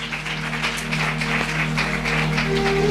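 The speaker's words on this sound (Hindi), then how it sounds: "और जोरदार तालियां इस बेटे की।" A church congregation applauds a boy with steady, continuous clapping that holds at an even level over a low electrical hum.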